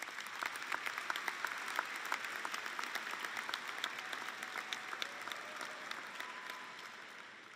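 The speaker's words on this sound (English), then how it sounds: "So graduates, please turn and give a round of applause to your families." Graduates at a high school graduation ceremony give their families a round of applause, a dense, steady clapping that stays even throughout and slowly fades toward the end.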